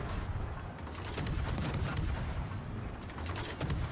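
Warship guns firing in World of Warships, heavy booming salvos and rumbling impacts layered into a dense, continuous barrage with a few sharp cracks, loud and close throughout.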